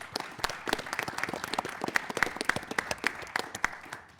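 A studio audience at a Texas middle school quiz show finals breaks into a brief round of applause, a dense patter of many hands clapping at moderate distance with no talking.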